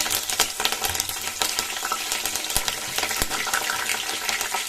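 Chilies, curry leaves and chopped ginger fry in hot oil for masala dosa, giving a loud, dense sizzle with crackles and a couple of sharp pops, steady throughout with no voices.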